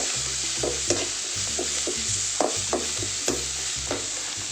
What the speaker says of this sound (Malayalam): മഞ്ഞൾപ്പൊടി ഒരു അര ടീസ്പൂണോളം ചേർത്തിട്ടുണ്ട് അതൊന്ന് ഇളക്കി